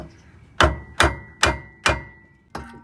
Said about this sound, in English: And then you just have to hammer this sucker right here.